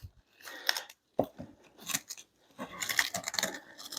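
Cellophane is pulled off a large roll in several bursts of bright crinkling and crackling, close by and sharp, with short quiet gaps between pulls.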